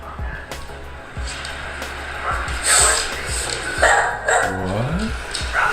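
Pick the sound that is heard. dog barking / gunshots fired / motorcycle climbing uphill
dog barking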